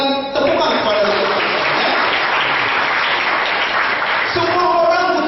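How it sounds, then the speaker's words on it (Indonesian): Audience applause at a detox business gathering, a full, even roar of clapping that fills the middle of the stretch, with a voice heard briefly at the start and again at the end. "Berikan tepukan kepada mereka."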